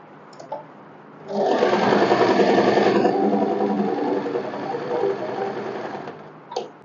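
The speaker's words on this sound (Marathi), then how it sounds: "डबल स्टिच करून घ्यायचं आहे।" A sewing machine double stitching a co-ord set runs steadily for about five seconds, loud and close, with short light clicks before and after the run.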